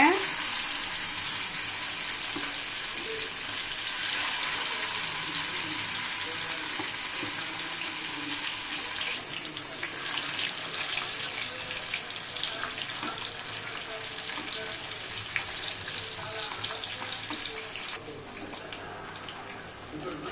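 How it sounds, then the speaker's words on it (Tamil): Vanjaram (seer fish) slices shallow-frying in hot oil, a steady broadband hiss and sizzle that runs continuously and fairly close, easing slightly toward the end. "வஞ்சரம் வறுவல் மீன் போட்டிருக்கேன்ப்பா எண்ணெயில்"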